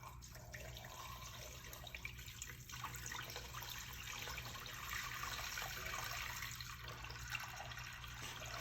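An automatic dog water bowl fills through a solenoid valve, giving a faint, steady trickle of running water that continues for several seconds with no talking.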